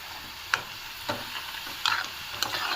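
Potatoes frying in a pan are stirred, giving a few separate scraping knocks at a steady pace over a constant close sizzle, with no talk.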